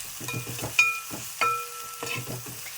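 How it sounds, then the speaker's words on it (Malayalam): Onion and curry leaves fry in a pan while being stirred, a close sizzle broken by repeated scraping strokes and a few metallic rings from the spoon, with no voices. "നമ്മുടെ കറിവേപ്പില ചേട്ടനും സവാള ചേട്ടനും കൂടെ സെറ്റായിട്ട് മൂത്ത് വരുമ്പോഴത്തേക്കുണ്ടല്ലോ നമുക്ക് ഇളക്കി ഇളക്കി ഇളക്കി ഒരു പരുവാക്കാം"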